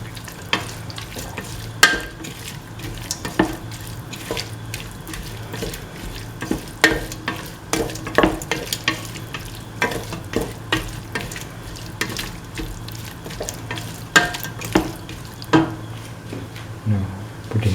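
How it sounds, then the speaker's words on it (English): Tomato pieces and green chillies stirred in a frying pan, with a spoon scraping and clacking in irregular bursts over a steady low sizzle, close and moderately loud. "Mix the tomato pieces and the green chillies."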